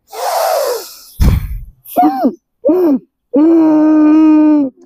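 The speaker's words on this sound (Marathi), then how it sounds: "श्वास आतमध्ये घेऊन सोडायचा आहे ना, आतमधून असं कर्कश आवाज काढायचा आहे." During a student yoga and pranayama session at Koregaon Rangi, a person takes a loud, rushing breath, then makes three harsh, groaning throat sounds. The last groan is long and sustained, and each sound is close and separated by short silences.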